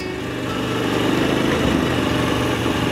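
Engine of a Moto Guzzi V85 TT motorcycle runs with a steady, throbbing drone that swells a little as it pulls, close and loud with no one talking.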